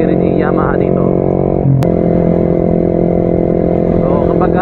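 A Yamaha XSR 155 motorcycle engine hums steadily and loudly with a brief rise and shift in pitch, while someone speaks over it throughout.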